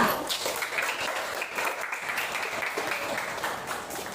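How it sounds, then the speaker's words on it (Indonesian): Students in a Year 8 classroom give a group a round of applause, steady dense clapping from many hands throughout, moderately loud and unbroken. "Kita beri aplaus untuk kelompok 2."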